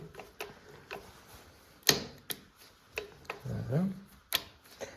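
Change gears on a TV4 benchtop lathe turning over, giving sparse mechanical clicks and ticks with a few louder knocks and a brief low whirring hum, fairly close and quiet.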